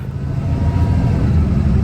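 A Penske rental box truck's engine idles or runs with a steady low rumble, close and loud, without speech.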